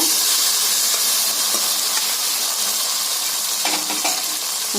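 Onions and banana stem with chana dal sizzle in a hot pan while cooking vegetable kootu, a steady loud hiss with a few brief crackles near the end.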